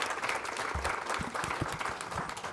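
An audience at a Women's History Month event claps for a presenter. The round of applause is steady and moderately close, with a few distinct hand claps standing out from the even patter and no speech over it.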